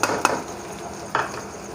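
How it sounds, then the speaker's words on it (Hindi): Fried chicken pieces, ginger-garlic paste and whole red chillies going into sizzling onions in a pan, a steady sizzle broken by two sharp spoon-and-pan clatters close by, no voices. "अब हम इसके अंदर चिकन डाल देंगे जो हमने फ्राई किया था। और साथ में हम ये अदरक लहसुन का पेस्ट और साथ साबुत लाल मिर्च डाल देंगे।"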